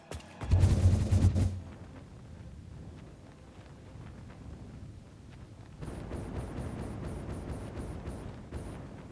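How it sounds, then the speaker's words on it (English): A Hyper Cannon launch in the factory-building game Satisfactory opens with a loud booming blast that dies into a rushing, wind-like whoosh as the player flies. Faint rhythmic clicking joins in toward the end, and no one talks. "get a boost from the Mega Factory Hyper Cannon"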